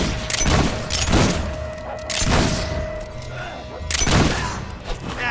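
Gunfire erupts during a battle in the Fable 3 video game, with several loud booming volleys spaced about a second apart under shouting voices and a steady tonal hum.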